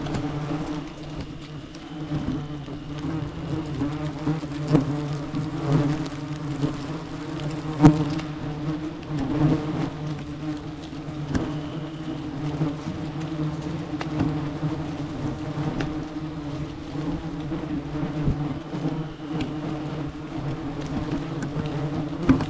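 Bald-faced hornets swarm around their nest hung out on a branch, a dense, steady buzzing drone that stays close and fairly loud with no talk.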